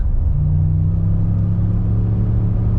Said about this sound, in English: Let's do another little throttle to get up to speed.